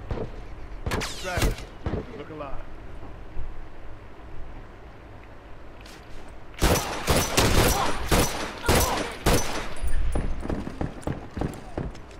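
Gunfire in The Last of Us team deathmatch, an early pair of sharp shots followed by a rapid cluster of loud bursts, with quieter game noise between them.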